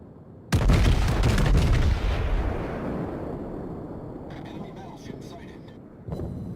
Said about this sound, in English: I'm trying to shoot over this island to hit this Furitaka.